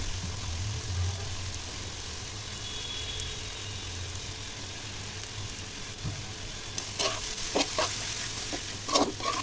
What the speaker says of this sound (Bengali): হলুদ গুঁড়ো, শুকনো মরিচের গুঁড়ো দিয়ে আমি নেড়ে নিচ্ছি।